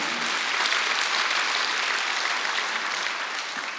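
A church congregation claps steadily for a few seconds during an Easter Sunday service, dense and even, fading slightly toward the end.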